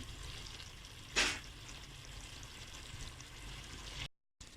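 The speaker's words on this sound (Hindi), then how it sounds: "अभी इसको हाई फ्लेम पे अब हमने 5 से 6 मिनट पकाना है" A chicken and capsicum curry cooks on a high flame, giving a steady, low sizzle with one brief louder hiss early on. The sound cuts to near silence for a moment just before the end.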